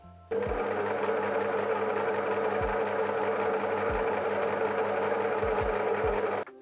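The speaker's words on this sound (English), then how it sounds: "I'm gonna do this in an overlocker" An overlocker sewing side seams runs fast and steady for several seconds, a dense buzzing hum with a few soft low knocks, starting and stopping abruptly.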